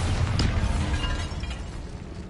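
A Bombarda explosion spell from the video game Hogwarts Legacy bursts near the start with a booming pop and crackling debris, then fades into a lower rumble over the remaining seconds.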